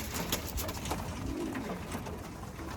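Racing pigeons cooing in a loft, soft repeated low throaty coos close by, with rustling and faint bird sounds in the background and no talking.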